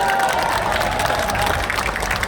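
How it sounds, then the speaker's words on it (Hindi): Crowd applause and clapping at an opposition rally in Ramlila Maidan, Delhi, a steady dense wash of many hands from a large outdoor gathering, sustained and fairly loud for the whole moment. "एक बार मैं तालियां चाहूंगा आपकी तरफ से"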